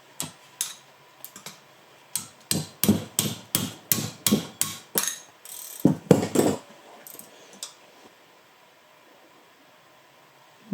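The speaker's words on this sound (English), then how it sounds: "or loosen the last bolt" Loosening the last bolt on a BV43 turbo during a rebuild: a burst of about a dozen sharp, evenly spaced metallic impacts, close and fairly loud, followed by a few scattered rattling knocks, then quiet.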